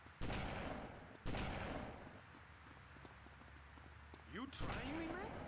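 Loud bursts of gunfire from GTA Vice City, two sharp blasts followed by scattered softer shots and rattling effects, with another burst near the end.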